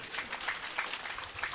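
Scattered applause from a small part of the audience at a spiritual discourse on the Achyutashtakam: a faint, thin patter of hand claps that keeps going at a low level without cheering.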